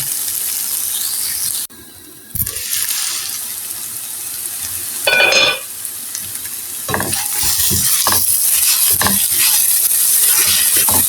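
Sweet pumpkin frying in a pan, a steady close sizzle with stirring scrapes and clatters, briefly muffled when a lid goes on, then a sharp burst of hissing before the frying continues alone.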